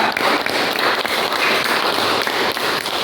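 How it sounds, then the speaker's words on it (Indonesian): Students in a classroom applaud a group of classmates, a short burst of steady, close clapping from many hands that carries on at an even level. "tepuk tangan untuk kelompok 3"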